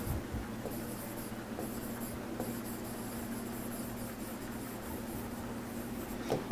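Marker or chalk scratches across a classroom board in short, steady strokes, faint and close, with a low room hum underneath.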